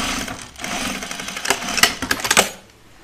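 Sewing machine fitted with a walking foot runs in a steady mechanical whir while stitching squishy wool flannel for a duffle coat, close and fairly loud, the rattle rising in short bursts toward the end before stopping.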